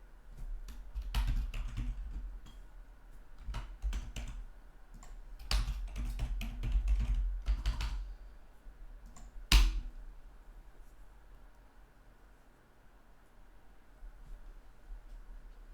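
Keystrokes on a computer keyboard come in scattered bursts of quick clicks with pauses between them, fairly close and clear over a quiet low hum, ending with a single sharper tap before fading into near silence.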